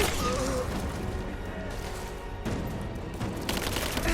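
Sustained suppressing gunfire rattles through a Rise of the Tomb Raider firefight, a dense, continuous barrage with heavy low-end booms and bursts swelling around the middle and end, while a voice speaks briefly under it.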